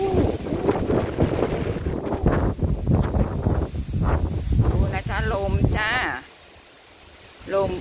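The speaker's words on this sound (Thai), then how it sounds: "ดูโอ้ยเสียงลมดูเสียงลม" Wind gusts roar across the microphone outdoors, loud and blustery, while a person talks over it for most of the stretch before the noise briefly drops away.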